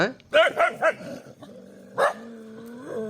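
Several dogs in a garden bark in quick bursts, then a lower growl, loud and close, with a voice speaking over parts of it.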